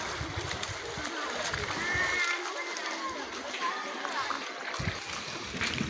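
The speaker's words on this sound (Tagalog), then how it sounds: "Ayan po ang ilog ng La Fortuna." River water at La Fortuna splashes and sloshes steadily near a hanging bridge, a continuous outdoor wash of flowing water with a person talking over it.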